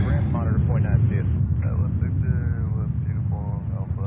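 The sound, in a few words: Boeing 787-9 Dreamliner airplane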